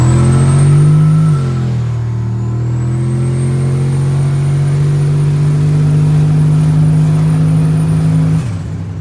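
A turbocharged 2500 pickup truck accelerates at full throttle from almost a stop, a loud close engine roar that steps down in pitch at a gear change and then climbs steadily before easing off at the end.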